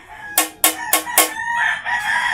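A rooster crows in a short burst of loud, sharp calls, four quick strident notes followed by a drawn-out, wavering tail, close by with no talk.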